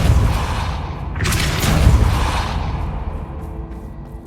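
A Depulso spell fires in Hogwarts Legacy, a loud booming whoosh that swells for a couple of seconds and then trails off into a low rumble, with nobody speaking.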